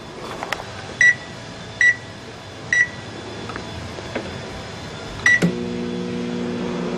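A few short electronic keypad beeps, then a microwave oven with its cover removed starts up with a steady, close electrical hum that continues to the end.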